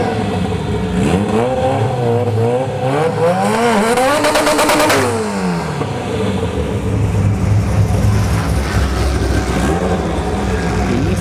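At a ShowTime Dragstrip test-and-tune session, a turbocharged E-Series Civic EG hatch and a ZL1 Camaro rev hard on the line, the engines rising and falling in loud, sustained roars with climbing pitch sweeps.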